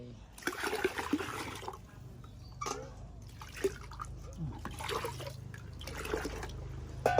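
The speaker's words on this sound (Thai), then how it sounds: "เอาน้ำที่เหลือใส่" Leftover water is poured in to dissolve fertilizer, giving splashing, trickling bursts that come and go over a steady low background, with brief pauses between pours.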